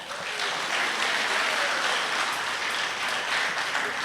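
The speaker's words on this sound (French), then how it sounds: "On peut les applaudir bien fort!" Steady, dense audience applause fills a school awards gala, a full-room clapping roar holding at an even level throughout with no speech over it.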